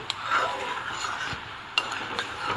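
Jaggery being stirred in a pot as it melts, with soft scraping and occasional light clicks of the spoon against the pot, quiet and close.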